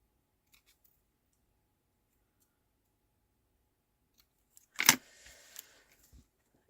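Scissors snip paper for a handmade Christmas card, a quick cluster of crisp cutting clicks after a long near-silent stretch, close and fairly quiet.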